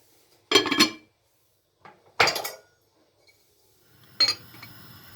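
Metal pots of wheat and chickpeas set onto a stove with lids placed on top, three separate bright clanks and rattles of lids and pot rims, close by, with quiet pauses between them.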